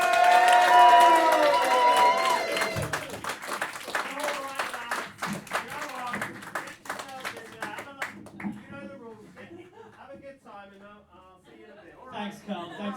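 Audience applause and cheering greet comedians walking onto a stage at a live comedy show, loud and sustained at first, then thinning to scattered claps under a presenter's voice.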